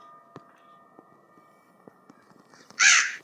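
In the horror video game Granny, a crow gives one loud, harsh caw near the end, after a quiet stretch with sparse soft ticks and clicks.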